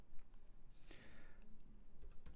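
Keystrokes on a computer keyboard while a reply is typed into a pop-up box, a short run of soft clicks with a brief louder burst partway through, fairly quiet and alone without talk.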